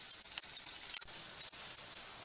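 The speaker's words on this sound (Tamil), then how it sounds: "வெங்காயம் பூண்டு கொஞ்சம் நல்லா வதங்கட்டும்." Onion and garlic sautéing in a pan, a quiet steady sizzle with a few faint clicks of stirring.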